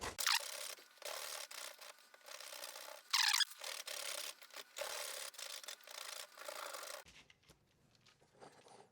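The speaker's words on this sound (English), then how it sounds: "Grab a box grater, grate this away." Cold dough or butter being grated on a box grater for homemade biscuits, a quick series of close, rhythmic rasping strokes with short pauses, then a quieter stretch at the end.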